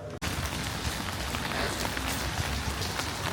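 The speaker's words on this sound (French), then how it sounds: "il fait que pleuvoir à Marseille" Rain falls steadily in Marseille as a dense, constant hiss of drops striking surfaces close by, broken only by a brief dip at the very start.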